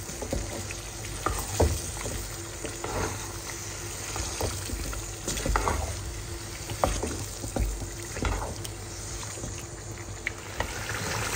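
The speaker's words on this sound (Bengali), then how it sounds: "এখানে মুরগিটা কষানো হয়ে আসছে" Chicken is braised in its own juices with no added water, giving a steady close sizzle and bubbling with occasional scraping stirs, and no one speaks.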